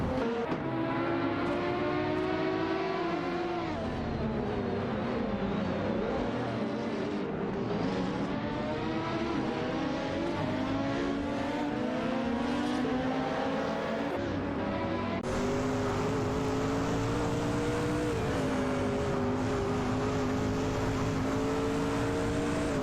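Virtual AI race cars in a video game race, with engines droning and revving continuously as gears shift, pitch rising and falling in steady waves, moderately loud with no talk heard.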